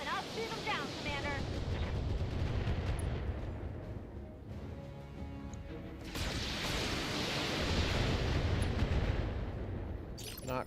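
Mech weapons and missiles fire in the BattleTech video game, with rumbling explosive bursts and booming volleys in two loud waves separated by a brief lull, with game voices talking over parts of it.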